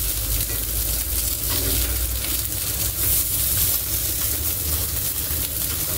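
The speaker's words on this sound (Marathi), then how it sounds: "तर आता आपण हे आप्पे जे आहेत ते उलट सुलट करून भाजून घेऊयात" Appe shallow frying in a pan give a continuous loud sizzle and crackle of hot oil, steady and close throughout with no voices.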